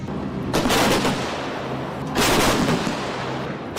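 Repeated loud, broadband booms of K9 Vajra self-propelled howitzer fire in open terrain, two heavy blasts about a second and a half apart with rumbling decay between, no talk.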